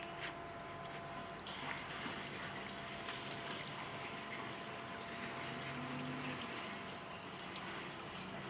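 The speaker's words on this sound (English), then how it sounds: "I'm not going to bore you with filling this whole tank" Water runs steadily into a pig waterer tank outdoors, a continuous broadband rush with a faint pump-like hum, loud and unbroken throughout with no talking.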